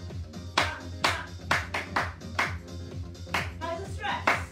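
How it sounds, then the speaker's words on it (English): Rhythmic hand claps during a seated exercise routine, about ten evenly spaced claps over music, with an instructor's voice calling along in time. "Clap, clap, clap, clap, clap, clap, clap, clap, clap, clap."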